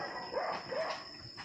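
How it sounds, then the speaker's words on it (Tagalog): A show-quality bully-type dog gives two short, faint barks or yips, distant and thin against a quiet background. "Ang gandang aso ni Sir Don na to"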